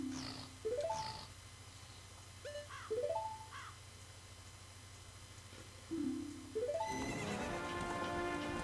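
Horses neigh repeatedly in Zelda: Majora's Mask, with a steady galloping clip-clop underneath, several whinnies overlapping as the riders give chase, ending in a louder burst of game sound.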